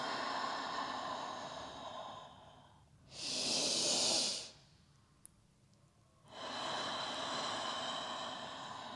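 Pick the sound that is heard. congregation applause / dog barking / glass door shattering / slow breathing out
slow breathing out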